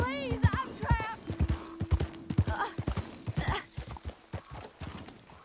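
Rapid hoof clip-clops of a horse in Red Dead Redemption 2 with whinnies and neighs, close and busy, while a person talks over them.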